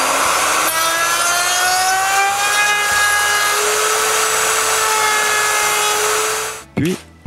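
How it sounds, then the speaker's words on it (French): A jigsaw whines loudly and steadily through wooden boards for several seconds, then cuts off abruptly with a brief clatter at the end. "coupe les planches plus étroites à la scie sauteuse"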